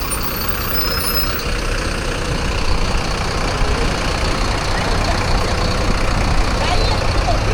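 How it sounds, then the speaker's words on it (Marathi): A new overnight sleeper bus with an onboard bathroom idles at a roadside pickup around midnight on the Panvel to Dapoli route, a steady low diesel rumble with faint murmured voices nearby. "चला, 12 वाजलेले आणि आपली गाडी आलेली आहे."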